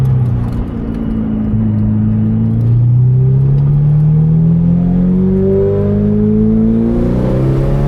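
Ferrari 488 Pista fitted with a Kline Inconel exhaust accelerating hard on an open road, a loud, steady engine note rising in pitch as the revs climb, heard up close from inside the car.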